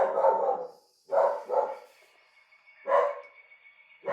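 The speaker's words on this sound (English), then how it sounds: "Again, my dog is barking." A dog barks indoors in a series of short, fairly close barks: a double bark, a pause, then two more spaced barks, with quiet gaps and no talk.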